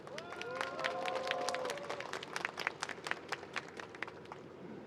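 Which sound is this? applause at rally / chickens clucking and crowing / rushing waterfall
applause at rally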